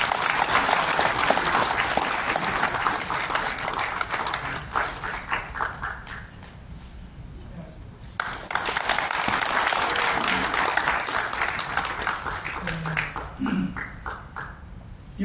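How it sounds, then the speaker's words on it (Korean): An audience at a press conference applauds a pastor about to deliver a keynote, full clapping that thins and dips midway, then surges back strongly before easing again. "큰 박수로 청해 듣겠습니다"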